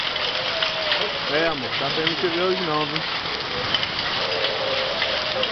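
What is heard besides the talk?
hailstones falling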